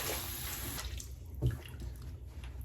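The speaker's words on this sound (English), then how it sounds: "I'm just gonna rinse this right off." Tap water runs steadily into a sink as facial cleanser is rinsed off, a soft continuous splashing that fades slightly partway through.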